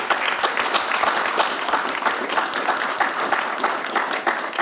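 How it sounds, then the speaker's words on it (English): An audience claps steadily through the whole stretch after a lecture on Paul Revere's Masonic journey, a dense, even round of applause with no talk heard over it. "Give you a round of applause."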